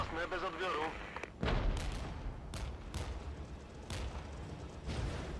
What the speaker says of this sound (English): Then we'll see about getting the RM-70s in. Firing away with those on the enemy artillery over here.